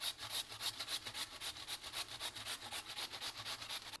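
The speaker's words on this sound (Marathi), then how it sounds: "आपण हे बटाटे आता व्यवस्थित किसून घेऊ।" Peeled potatoes grated by hand on a medium grater, a fast, steady run of close rasping strokes repeating evenly throughout, with no talking.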